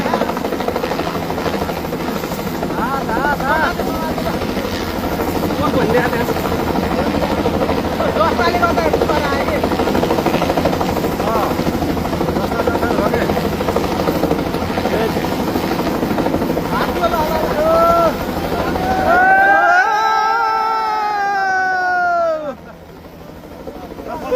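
A helicopter over a flooded area makes a loud, continuous rotor thrum that stays close for most of the stretch, with voices talking beneath it before the noise drops away near the end.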